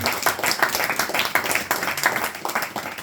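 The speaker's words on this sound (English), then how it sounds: "Please give a round of applause." A short burst of dense applause from a small crowd at a Bhagavad Gita study gathering, many hands clapping together, close and fairly loud.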